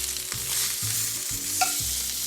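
Steak sizzling and searing in a hot pan as it is turned, a steady bright fizz with a few low scrapes and a light clink, close up with no talking.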